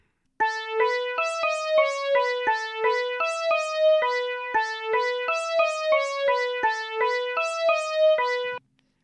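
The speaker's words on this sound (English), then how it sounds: "This was a sample of a Prophet 10 and a DX7," A bell pad sampled from a Prophet 10 and a DX7 and played on a Novation keyboard rings out in a steady repeating pattern of bright, chiming notes, each struck cleanly and decaying, with no talk over it.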